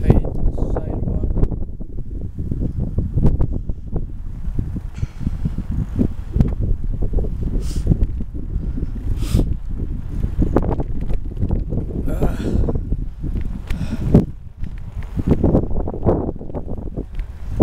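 Wind buffets the microphone while someone rides a bike through a neighborhood, producing a continuous low, gusty rumble that surges and dips for the whole stretch, with no clear talk.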